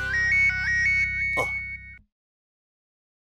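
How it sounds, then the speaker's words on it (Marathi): An electronic phone ringtone plays a bright repeating melody for about two seconds, then cuts off into silence. "बासुंदीचा फोन"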